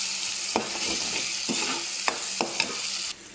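A spice paste with tomatoes frying in a pan, a loud continuous sizzle with rhythmic spatula strokes about once a second that stops abruptly near the end.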